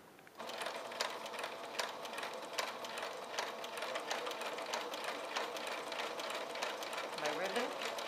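A domestic sewing machine runs steadily and close up while sewing a ruffled row of a pettiskirt, its rapid even chatter continuing throughout after a brief start.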